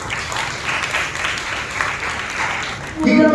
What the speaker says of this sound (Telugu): చప్పట్లు పెట్టి మనం దేవుని బయటపరచాలి